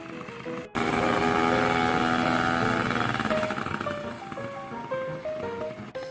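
A powered paraglider paramotor engine kicks in sharply and drones loud and close for several seconds. Its pitch then wavers and shifts as the revs change during a dry-run takeoff, and the sound eases slightly toward the end.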